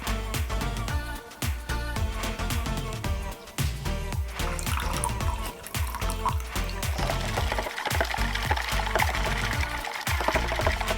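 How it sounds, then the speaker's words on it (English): Freshly brewed Thai tea, made from bubble tea powder, is poured into a shaker in a continuous splashing stream that runs throughout, close and fairly loud. "Once the tea is done brewing, carefully pour it into your shaker and stir until combined."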